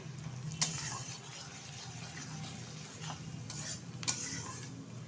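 Onions with meat masala are stirred in a pan for a potato and country chicken curry, a soft low sizzle under occasional sharp spatula scrapes against the metal, quiet and close with no voices.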